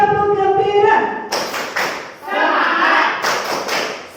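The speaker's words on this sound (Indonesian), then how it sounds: "Tepuk gembira." A group in a school activity chants together, then bursts into rhythmic clapping, loud and close, with several quick claps mixed with shouted voices for a few seconds.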